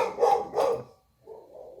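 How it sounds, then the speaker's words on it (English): Two loud, close dog barks in quick succession, followed by a brief pause and a quieter, lower growl-like rumble. "those dogs"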